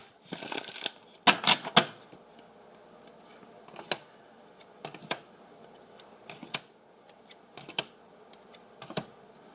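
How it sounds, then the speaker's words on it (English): Tarot cards riffle and flutter in a couple of quick bursts, followed by scattered soft clicks and taps of cards being handled, close and quiet. "let's do 2 more shuffles"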